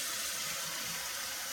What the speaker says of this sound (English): I'm pouring the water into it